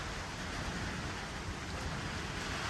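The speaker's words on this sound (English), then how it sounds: "And now it's just a mild thunderstorm" Steady, faint wash of rain hiss from a mild backyard thunderstorm with a light breeze, even and continuous with no distinct thunder claps.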